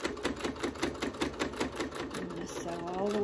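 A sewing machine stitches a fabric hot pad in rapid, even pulses close by, then settles into a smoother hum while a person talks over it.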